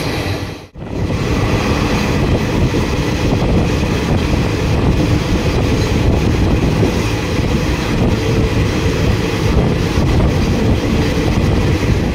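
A train runs with a loud, steady rumble and roar heard from inside, sustained throughout after a brief dip near the start, with no talking.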